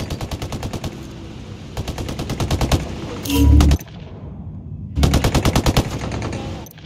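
Automatic gunfire from the video game Ghost Recon Breakpoint: rapid, loud bursts of shots that pause, then a heavy blast, then another sustained burst under dense game noise.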